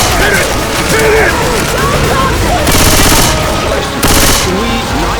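Gunfire in the video game Left 4 Dead 2 during a tank fight, dense and loud rapid automatic bursts mixed with game effects and noise, with a couple of especially strong volleys.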